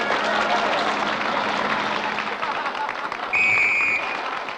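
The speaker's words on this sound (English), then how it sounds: "audience, applaud" Circus audience applause, a broad continuous wash of clapping at even loudness, with a brief high whistle-like tone cutting in near the end.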